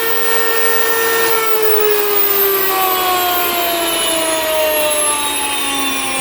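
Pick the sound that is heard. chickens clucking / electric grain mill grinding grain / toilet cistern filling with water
electric grain mill grinding grain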